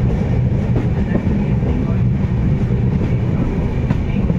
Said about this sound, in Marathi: आणि आपली गाडी आता जिते रेल्वे स्टेशन येथे आलेली आहे